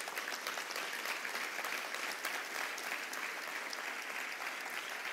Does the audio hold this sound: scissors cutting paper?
no